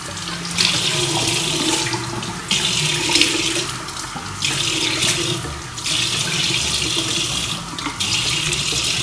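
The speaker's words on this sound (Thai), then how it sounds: "ถ้าเอาน้ำสาดลงไป" In a bathroom, water is splashed repeatedly onto a made-up face to test the makeup, coming as rhythmic rushing bursts close by with short pauses between them.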